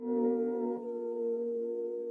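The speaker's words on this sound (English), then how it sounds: "adding in this chord, and is this blooper piano chord" A blooper piano chord sample with a soft, sustained, slightly wavering tone, faint and close, held for about two seconds with a small shift partway through. No voices.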